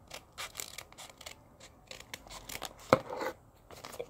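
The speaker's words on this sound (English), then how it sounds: "you cut it." Scissors cutting a folded paper ninja star, a series of close, crisp snips and paper rustles with one sharper crunching cut near the end.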